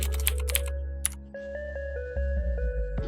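Quick keystrokes on a computer keyboard while typing web code, in a short burst of close clicks at the start, then sparser taps over steady sustained tones in the background.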